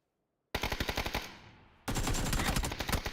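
Automatic rifle bursts in the battle royale game PUBG, an M4 against an AK: one rapid rattle of about a dozen shots, a short fading pause, then a second sustained burst, loud and close.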